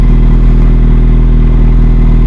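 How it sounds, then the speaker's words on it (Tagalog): A 2025 Kawasaki Z900SE motorcycle engine runs loud and close, with a steady, throaty low rumble that holds level throughout and shows no clear rise or fall in pitch. "Subukan natin si Z900"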